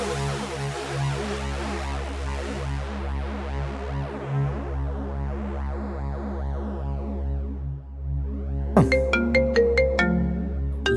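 A phone ringtone plays a steady looping electronic melody for a long stretch, briefly dips, then picks up again with sharper bright tones near the end.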